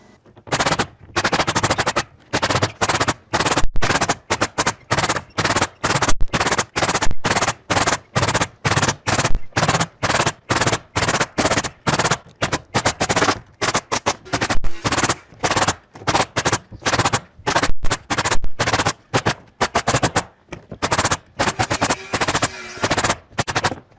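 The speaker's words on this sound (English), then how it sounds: "The air compressor won't keep up. I'm nailing too fast." A pneumatic nail gun fed by an air compressor fires in rapid, repeated sharp bangs while framing a large salt box garage with an apartment, the loud shots coming in quick bursts with short gaps throughout.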